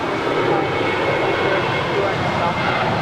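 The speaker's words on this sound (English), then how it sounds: "This next departure is Alaska Airlines Flight 558 departing to Loretto. It's a 5-year-old Boeing 737-900ER." Alaska Airlines Boeing 737-900ER jet departing Los Angeles International Airport, a steady, loud broadband engine roar held at constant level throughout, heard from the spotting position.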